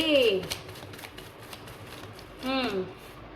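Tarot cards shuffled by hand during a reading, a soft papery riffling that runs steadily through the moment, with a person talking briefly over it at the start and again near the end.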